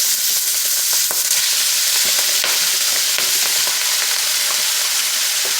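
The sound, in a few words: Copenhagen cabbage frying in a pan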